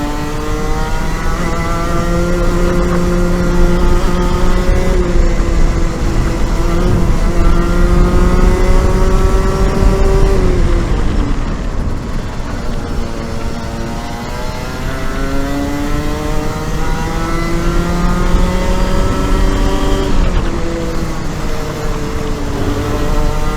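Rotax 125 engine straining and bogging down on a hill climb, a loud continuous buzzing drone whose pitch rises and sags in waves over about twenty seconds, heard close and alone.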